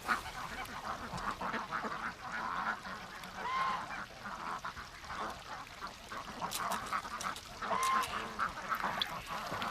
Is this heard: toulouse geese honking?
yes